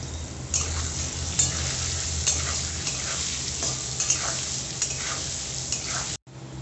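Potatoes seasoned with turmeric and salt fry in oil in a pan, a steady close sizzle punctuated by repeated spatula stirs and scrapes, with no talking.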